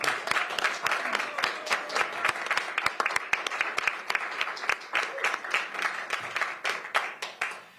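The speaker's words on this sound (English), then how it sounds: "Please give him a round of applause." A room at a Pierce County Council meeting breaks into applause, producing dense, continuous clapping with sharp hand strikes that hold steady throughout before tapering at the very end.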